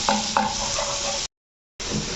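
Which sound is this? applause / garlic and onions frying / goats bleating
garlic and onions frying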